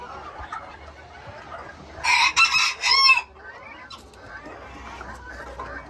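Golden Sebright ornamental chickens cluck softly in a barn pen, then a rooster lets out a loud, close crow lasting about a second before the quiet clucking resumes.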